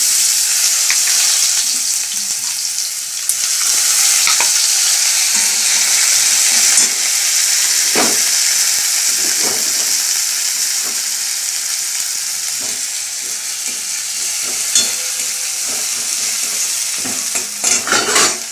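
Onion fries in plenty of oil in a pan, a dense, loud, continuous sizzle close by, broken by occasional stirring knocks and clicks of a spoon against the pan.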